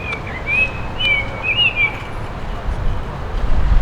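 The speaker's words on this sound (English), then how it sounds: "I really enjoy hearing the sings of the birds" Outdoors, birds sing a few clear whistled chirps in the first two seconds, moderately near, over a steady background rumble that grows slightly louder toward the end.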